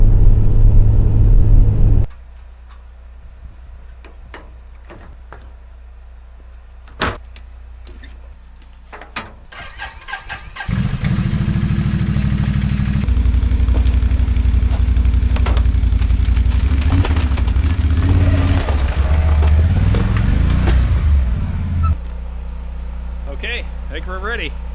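A winter ATV engine starts and runs loudly in the snow near an off-grid cabin, a steady close rumble with a shift in pitch, after a quieter stretch with scattered knocks.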